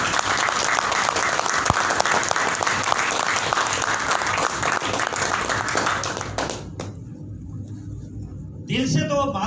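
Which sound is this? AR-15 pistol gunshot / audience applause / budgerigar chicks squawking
audience applause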